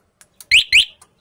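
A motorcycle alarm answers a remote unlock with two sharp, bright electronic chirps, each set between faint short clicks, close and otherwise silent.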